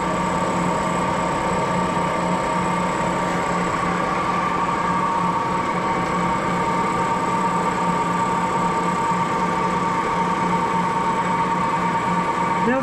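A Moore jig borer with a boring head spins at about 1,000 RPM, giving a steady, loud mechanical hum with a constant whine, running continuously and unchanged throughout.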